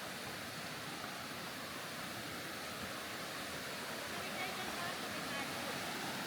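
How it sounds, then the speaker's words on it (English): Waterfall beside a big river in Pagudpud, heard as a steady, dense broadband rush of falling water that holds evenly throughout with no breaks. "We're now approaching to the waterfalls"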